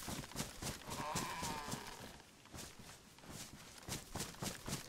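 Cow mooing in the survival video game DayZ, a short low moo among rhythmic thudding footsteps while running, moderately close.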